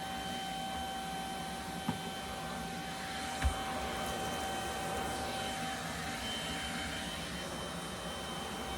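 A HAUSHOF 24V cordless 2.5-gallon wet/dry vacuum cleaner runs with a steady, even drone and a thin tonal whine, broken only by a couple of small knocks as it picks up debris indoors.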